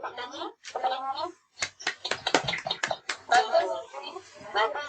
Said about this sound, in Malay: Tepuk tangan kepada Nurin.